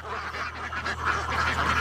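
A flock of ducks on a duck farm quacks in rapid, overlapping bursts, a steady busy chatter of many birds at moderate distance with no talk.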